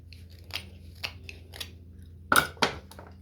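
A knife carving cedar wood against the grain gives short scraping, crunching strokes: three lighter cuts spaced about half a second apart, then two louder, harsher rasps close together near the end.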